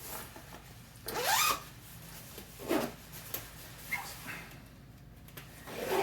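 A clothing zipper rasps several times in short bursts close by, with quieter rustling of fabric between the pulls.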